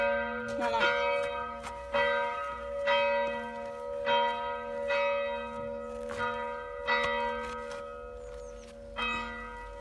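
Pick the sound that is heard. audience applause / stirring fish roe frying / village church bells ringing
village church bells ringing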